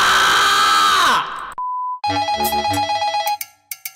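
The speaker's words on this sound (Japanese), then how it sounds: "電話かかってきてる" A phone rings with an incoming call in Minecraft: a loud sweeping tone cuts to a steady beep, then a bright, repeating electronic ringtone pulses.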